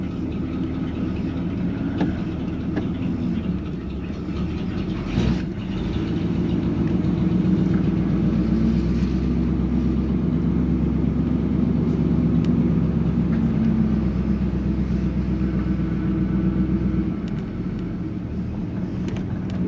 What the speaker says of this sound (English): Power steering pump's making a little bit of noise.